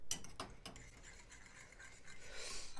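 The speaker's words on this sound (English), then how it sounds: "we're just going to mix this around to get some of that butter melted" Spoon scraping and stirring through canned creamed corn with butter in a dish, a few sharp scrapes at the start followed by soft, steady wet rubbing, close and fairly quiet.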